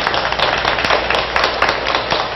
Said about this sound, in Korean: 우리 박수 한번 부탁을 드리겠습니다.